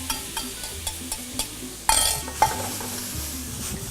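Melon balls dropped into a quick brown sugar caramel in a pan: light clinks and stirring taps, then a louder burst of sizzling as the fruit hits the hot caramel, with no talking.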